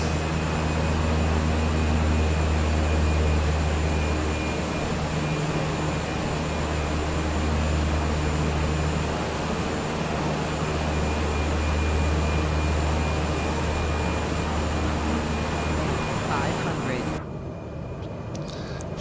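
A light aircraft's engine drones steadily and loudly during a touch-and-go at a sloping hilltop bush strip in Tasmania, with a low, even hum that cuts off abruptly near the end.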